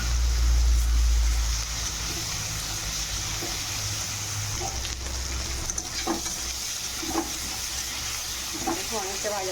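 Potatoes and pointed gourd frying in a pan with garam masala, a steady sizzle with occasional stirring clatter, close and moderately loud, with a heavier burst at the start.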